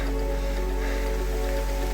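Rain falls steadily on a clearing along the GR 10 trail in the Ariège Pyrenees, a dense, continuous close hiss with no pauses.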